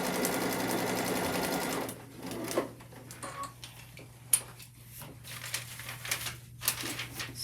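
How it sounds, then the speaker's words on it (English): A sewing machine stitches paper-pieced star units for a quilt, first a steady fast whirring run, then shorter bursts with pauses and clicks as the pieces are chained through, close and clear. "you're sewing on the solid line"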